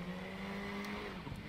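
KTM race car in the RaceRoom racing game at Lausitz, engine droning steadily with a thin sustained tyre squeal over it, a brief scrubbing chirp near the end, no talk.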